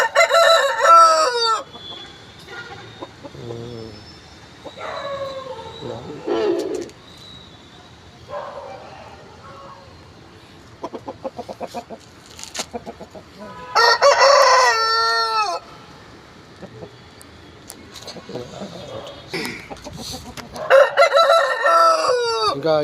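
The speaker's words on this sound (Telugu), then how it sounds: "కోళ్ళు అన్నీ చాలా కండిషన్లో ఉన్నాయి." Fighting roosters kept for cockfights in Nellore crow and cluck in repeated loud bursts close by, with a dog barking now and then and quiet gaps between the calls.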